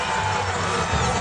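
Crowd cheering and shouting at a freeski contest, a dense, steady roar of many voices heard from a distance during a brief moment.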